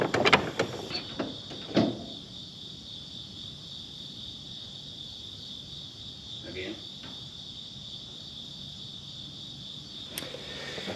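Crickets chirp steadily in a quiet outdoor setting, a thin continuous trill held at low level throughout, with a few brief knocks and rustles near the start and a faint bump near the end.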